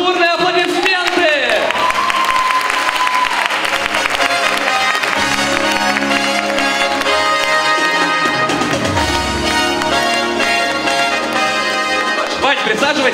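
Loud applause and cheering from a student audience at a faculty of information technology freshman initiation concert, sustained throughout with music and voices mixed in.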